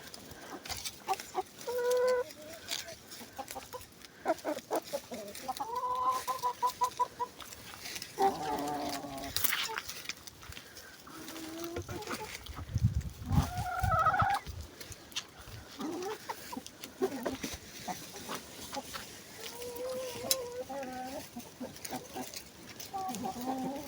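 Chickens cluck and murmur continuously nearby while eating fallen mulberry leaves, with scattered squawks and other farm animal calls in the background, no talking.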